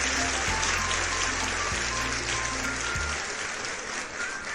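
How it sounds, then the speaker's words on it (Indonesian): Loud, dense applause from a crowd fills the whole stretch, steady and unbroken, with a low hum underneath that stops and restarts a few times. "Tepuk gemuruh dulu."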